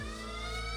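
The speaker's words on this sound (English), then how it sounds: "blinding our eyes and loud alarms rupturing our eardrums." A loud, steady electronic alarm from the video game Limbus Company blares alone, a sustained harmonic tone holding at constant volume through the whole short burst.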